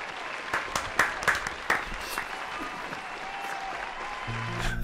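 Applause from a crowd, a dense wash of hand clapping with a few louder sharp claps near the start, sustained steadily throughout.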